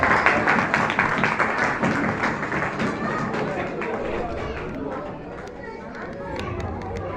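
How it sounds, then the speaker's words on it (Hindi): Loud, dense clapping from a church ministry audience, sustained throughout with a busy crowd murmur mixed in, tapering slightly toward the end. "जोरदार तालियां आप बजाते रहिए"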